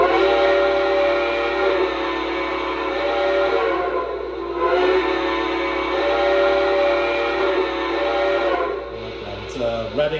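A Lionel Western Maryland 1309 model locomotive sounds a chime whistle in long, loud steady blasts, two sustained tones separated by a brief dip, ending with a short clatter.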